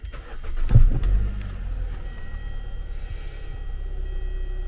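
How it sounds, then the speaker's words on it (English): A Hyundai car engine is started in a driveway while the car sits up on jacks for an oil change, giving a short cranking burst and then settling into a steady low idle rumble close by. "The next thing I do is start the car for a few minutes"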